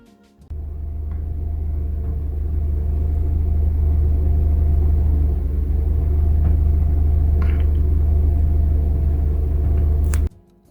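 A Mercedes engine with KE-Jetronic fuel injection idles steadily for about ten seconds, a deep, even low rumble that holds level before cutting off abruptly near the end.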